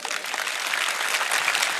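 Dense, steady applause from a live audience at a public speech about Babasaheb, continuous and fairly loud throughout with no talking.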